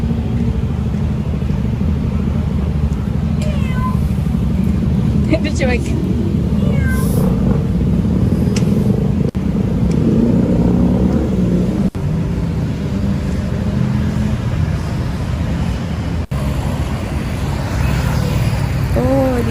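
Several cats meow on a busy street, their cries rising briefly over steady traffic noise while people talk throughout.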